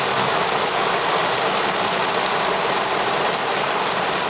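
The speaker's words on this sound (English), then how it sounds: "It's fucking pouring as hell." A dense, constant roar of heavy rain pouring down during a storm, loud and unbroken, with a faint low rumble underneath.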